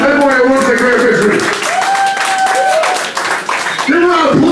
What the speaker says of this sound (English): Give a round of applause for all the bands that play tonight.